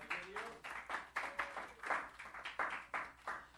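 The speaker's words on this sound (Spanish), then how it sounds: "Dele palmas al Señor en esta noche." A church congregation at an evening youth service claps in rhythmic unison, about two claps per second, moderately distant with a roomy echo.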